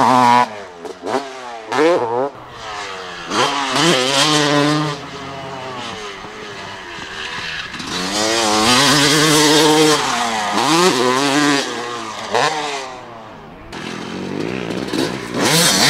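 A 2004 Kawasaki KX250 two-stroke motocross bike engine revs loud and close, rising and falling in repeated sharp throttle bursts with a buzzy, raspy pitch and no talk over it.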